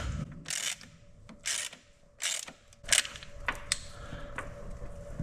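A castellated lock nut on a chair castor is tightened with a tool, giving ratcheting clicks and metallic scrapes in short bursts, close by and without talk.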